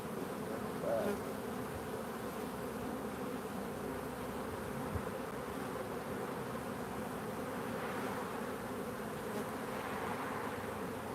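Honeybees buzz continuously during a bee yard hive inspection, a dense, steady drone from many insects close around, with no talking.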